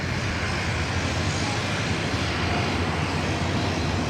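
Cathay Pacific airliner taking off at Sydney Airport, a steady, broad engine roar holding level throughout at moderate distance, with no other sounds standing out.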